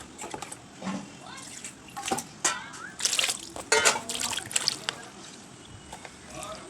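An eggplant is rinsed under water at home, with splashing, dripping and trickling sounds in irregular bursts, heard close by while someone talks.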